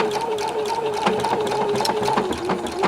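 A sewing machine stitches appliqué in a steady, fast mechanical whir with rapid rhythmic needle ticking, close and continuous throughout.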